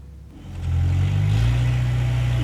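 A toy truck is pushed through oobleck while a voice imitates its engine, giving a low, steady rumbling vroom that swells up after a short quiet start and holds loud.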